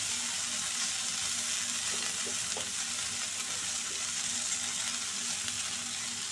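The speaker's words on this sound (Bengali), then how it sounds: "মশলাটা কষিয়ে নেব।" Masala sizzles steadily as it is sautéed in a pan for a spinach ghonto, a continuous close hiss of frying with faint scraping from stirring.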